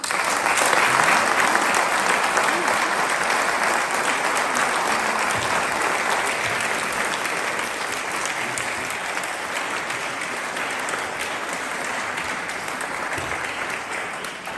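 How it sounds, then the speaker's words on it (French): Sustained audience applause fills a benefit concert hall in Criquebeuf-en-Caux, steady and dense from start to finish and tapering only slightly toward the end, with no voices over it. "je crois que cet exemple mérite nos applaudissements"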